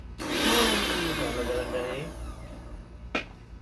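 A kitchen blender whirs loudly through watermelon juice for about two seconds, its motor pitch sliding down before it winds off, followed by a short sharp clunk.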